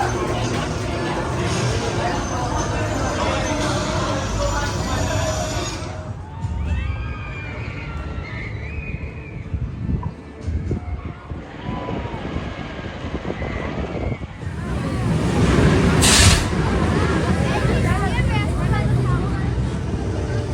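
Front-row riders on Colossus, a wooden roller coaster at Heide Park in Germany, hear a loud rumbling rattle and rushing wind. Riders shout and talk throughout, the sound eases in a brief mid-ride lull, then surges again.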